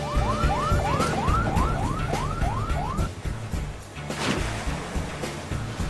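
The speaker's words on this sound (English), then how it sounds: "now I've got a siren" A wailing siren cycles up and down quickly about ten times over a few seconds, then drops away, leaving steady traffic rumble.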